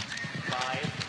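Horse hooves pound rhythmically on an Olympic equestrian cross-country course, a steady fast clip-clop at moderate distance under continuous narration.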